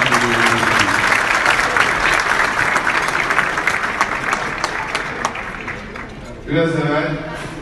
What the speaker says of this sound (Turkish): Çok önemli alkışlarınız.